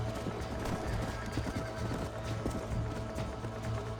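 Steady clip-clop of galloping hooves with a horse's neigh in Red Dead Redemption, dense and continuous, like game audio.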